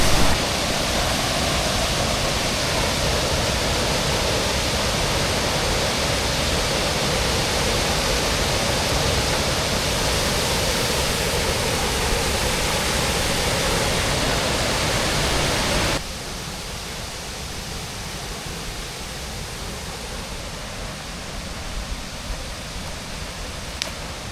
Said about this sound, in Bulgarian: Колку убаво се развлади, водичка, водопадче